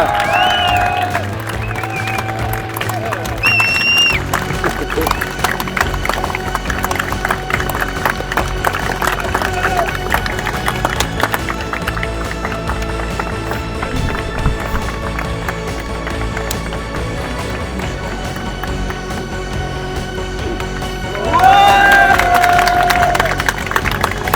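A French racing season podium ceremony, with a crowd applauding and cheering the second-place finisher, Axel de Carvalho. A steady wash of clapping and noise runs throughout, music and PA tones mixed in, swelling louder near the end.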